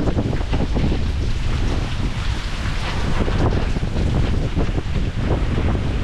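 Hurricane Milton winds in Florida blast steadily and loudly, a heavy churning roar with gusty buffeting against the microphone throughout, no voices.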